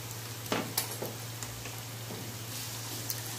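Melon seeds and cashew pieces frying in oil in a pan for a smoky mushroom curry, a soft steady sizzle with a few light clicks and stirring taps over a low electrical hum.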